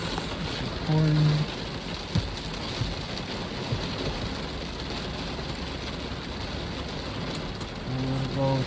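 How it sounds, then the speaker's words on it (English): Heavy rain pours steadily through a lightning storm, a dense, constant hiss that fills the whole clip, with a low voice murmuring briefly near the start and end. "I love it when it rains like this."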